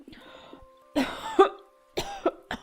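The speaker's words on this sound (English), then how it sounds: "Daddy, Mom is coughing a lot again." A woman's character in a point-and-click adventure game coughs in separate bursts, a short one, then a heavy double cough, then another pair, close and fairly loud.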